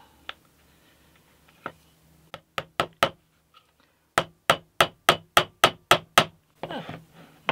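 A 3.17 mm peg is hammered into a 3 mm hole in MDF: a few scattered taps, then a steady run of about a dozen sharp, evenly spaced hammer blows, close and loud, with no talk.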